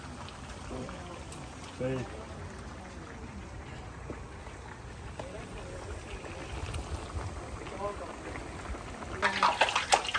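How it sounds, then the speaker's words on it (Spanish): Rain falls outdoors in Chula Vista, California, a steady soft hiss of water across the scene that swells louder near the end, with people talking over it. "Está lloviendo aquí en Chula Vista."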